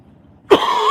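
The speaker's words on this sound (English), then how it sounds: "is this coughing too much?" A single sharp cough bursts out suddenly after near silence during a casual Saturday morning coffee gathering, followed by a sustained rough, breathy tail.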